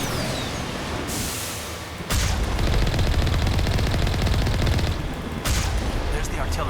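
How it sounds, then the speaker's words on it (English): Heavy artillery pounding in the Mass Effect game on the way to Virmire: dense, loud bursts of firing that cut in and out in sustained barrages over a rumbling battlefield, with a voice speaking at times. "There's the artillery that's keeping Normandy at bay."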